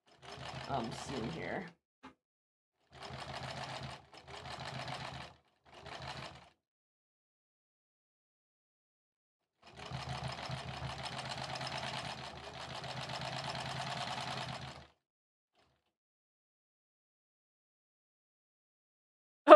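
An old Kenmore sewing machine whirs in short bursts while stitching quilt rows, then settles into one longer steady run. A person speaks briefly near the start.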